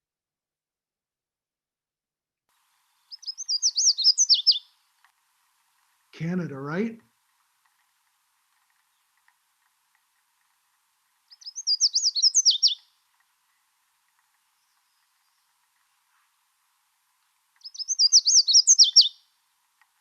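Three short bursts of high, rapid, trilling bird song rise out of silence at even intervals, close and clear, with a brief spoken remark between the first and second phrases.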